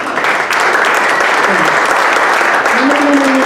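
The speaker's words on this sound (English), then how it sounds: "A huge round of applause." Audience at an arts education advocacy event giving a steady, loud round of applause that fills the hall without pause, with voices faintly mixed into the clapping.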